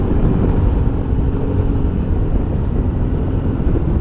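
A 2021 Sym MaxSym 400 scooter being ridden on the road, a loud, continuous low rumble of engine and wind noise with no talk.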